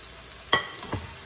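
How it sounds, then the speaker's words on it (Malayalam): Mushrooms are stirred into a frying masala in a pan, giving a brief scrape with a sizzle and then a second softer stir, close by. "ആ മസാലയുടെ പച്ചപ്പൊക്കെ ഒന്ന് മാറിക്കഴിഞ്ഞതിന് ശേഷം നമ്മൾ റെഡിയാക്കി വെച്ചിരിക്കുന്ന മഷ്റൂം ഇതിലേക്ക് ഇട്ട് കൊടുക്കണം"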